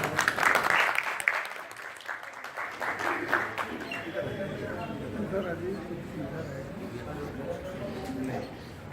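A crowd at a poetry gathering claps to welcome a poet, loud bursts of hands at first that settle into a softer, steadier patter with murmured voices and talk underneath.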